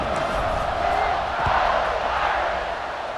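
A big stadium crowd roars steadily and loudly at a college football game in EA Sports College Football 26, ahead of a fourth-quarter kickoff, a dense wash of cheering that swells briefly midway.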